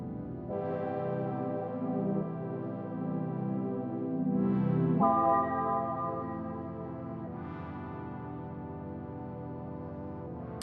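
Sustained synth pad chords run through a delay with echo and panning automation, soft evolving tones that shift and swell slowly, with a faint trailing echo, calm and alone.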